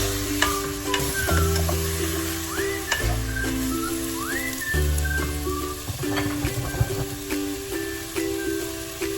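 Pork ribs sizzle in a pot with onions for nilagang baboy, a loud close frying hiss broken by repeated stirring scrapes and clanks of a utensil against the pot, with no speech.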